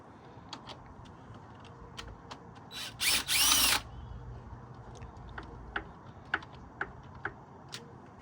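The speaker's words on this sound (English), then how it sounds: "So just start off by taking off those bolts." Bolts being removed from the throttle body of an Infiniti G35, with a short burst of a power driver whirring in the middle amid scattered small metallic clicks and taps, fairly quiet and close.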